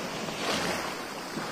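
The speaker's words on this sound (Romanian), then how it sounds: "Marea Egee, cea mai curată mare din lume." Aegean Sea waves at Mount Athos wash and surge steadily over a breezy shoreline, with a broad continuous hiss of surf and wind on the microphone throughout.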